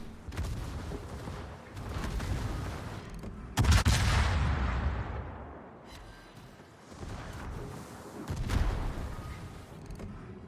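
Heavy cruiser Baltimore firing a full gun salvo in World of Warships on the Land of Fire map: a loud booming volley around the middle, with further rumbling blasts and a trailing roar, no talking over it.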